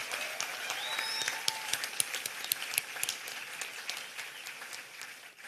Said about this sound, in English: 152 graduates today deserve a resounding round of applause